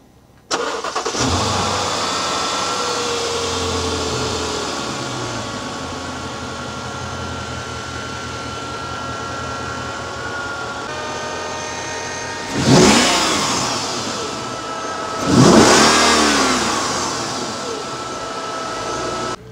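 A V8 car engine rated at 388 horsepower, under an open hood, starts with a loud crank and settles into a steady close idle, then revs sharply twice near the end, with no talking.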